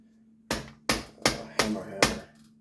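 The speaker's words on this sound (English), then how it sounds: "This is a rubber mallet" A rubber mallet taps a carburetor part out during a carburetor rebuild, five firm, evenly spaced thuds in close succession, loud and near, with no talk.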